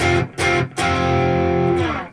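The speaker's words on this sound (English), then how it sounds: "you've got to kick in some heavy distortion. So I've got that really gritty sound" Electric guitar played with heavy, gritty distortion, loud chugging power-chord bursts with two short breaks before a long sustained crunching chord.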